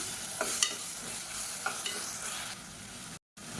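Ginger garlic paste sautés in hot oil with onions for an egg curry: a soft, continuous sizzle broken by spoon scrapes and stirring knocks, fairly quiet and close, with a brief dropout near the end.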